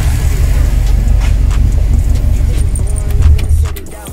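A Subaru Impreza WRX with upgraded headers idles loudly and steadily up close, then its engine is switched off and the rumble dies away over the final half second.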